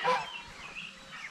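Turkeys kept in a fenced area on a small farm give a few faint gobbling calls from some distance.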